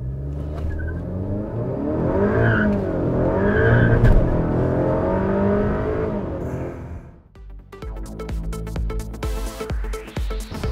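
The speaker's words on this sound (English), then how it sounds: "This time I'm going to try to launch with less RPM." A Honda FK8 Civic Type R with a hybrid turbo and E30 ethanol tune holds a droning engine note at launch revs, then releases into a harsh burst of tire spin and rising engine noise, close and loud.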